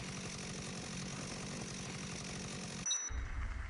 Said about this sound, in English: Except for the rattle of my very loud chainsaw, actually.